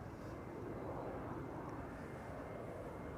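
Airliner taking off from runway 04 at Amsterdam Schiphol, a faint, steady, distant jet roar with no break across the whole stretch.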